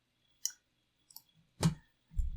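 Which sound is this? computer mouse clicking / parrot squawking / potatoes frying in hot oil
computer mouse clicking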